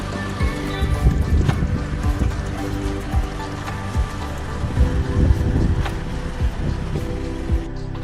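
Boats on the Alappuzha backwaters in Kerala: a steady engine drone with water splashing and lapping, plus scattered knocks and clatters, continuous and moderately loud, no voices.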